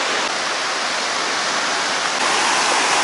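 Sea waves wash continuously onto a sandy beach ringed by mountains on Koh Phangan island, Thailand, a dense steady roar of surf that fills the whole clip without a break or voices.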